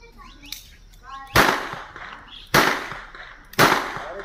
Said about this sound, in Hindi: एक और हर्ष फायरिंग का मामला